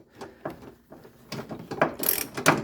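A hand ratchet loosening an engine mount bolt on a Chevrolet Spin/Cobalt clicks in a series of short, close bursts of pawl ticks, uneven in rhythm and growing louder toward the end.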